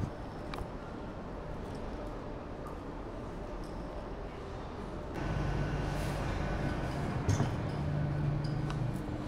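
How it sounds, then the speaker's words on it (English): Ambience inside Hull train station with trains: a steady rumbling hum that grows heavier partway through, with a low engine drone and faint clanks over it. "So here we are, Hull train station, back in Hull."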